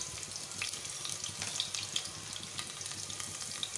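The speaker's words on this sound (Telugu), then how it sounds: "ఆయిల్ ఎక్కిందండి, మనం వెల్లుల్లి రబ్బలు 1-5 రబ్బలు బాగా కచ్చపచ్చి దంచుకొని వేసేసుకోవాలండి." Crushed garlic cloves sizzling in hot oil in a pan while cooking khichdi, a steady close crackle with small spitting pops throughout, no talking.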